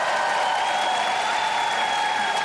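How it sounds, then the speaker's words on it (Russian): Steady applause from a large television talent-show audience in a hall, dense and continuous throughout, loud and close with no talk over it. "Аплодисменты."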